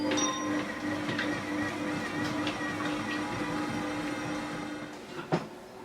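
A Monsieur Cuisine Smart food processor running a programme at speed 3 and 110 degrees, a steady mechanical hum with a faint whine and slight rhythmic flutter, ending with a brief knock.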